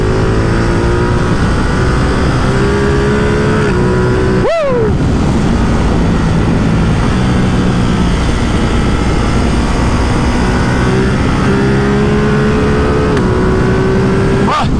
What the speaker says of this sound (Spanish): Tiene mucho torque, es muy salvaje el torque de esta moto